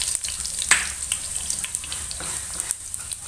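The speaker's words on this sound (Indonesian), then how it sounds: "Lalu kemudian goreng bawang merah dan bawang putihnya." Shallots and garlic frying in oil for an Indonesian coconut-milk breadfruit vegetable dish: a steady, close sizzle with crackling pops and occasional stirring clicks, and no talking.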